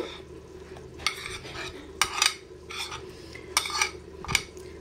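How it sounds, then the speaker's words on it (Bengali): Garlic and chilli paste cooks in a pan as a spoon scrapes through it in steady strokes about once a second, with a faint sizzle underneath and no talking. "তা প্রথমে এই রসুন আর লঙ্কা পেস্টটাই দিয়ে দেব।"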